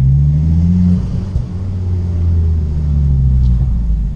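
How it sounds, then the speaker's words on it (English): A Ford Focus ST225 with its five-cylinder engine gives a deep, burbling idle that swells into a couple of revs and settles back, close and loud, with no talk over it. "It's a bit of a noisy one, it's got a bit of a burble going on."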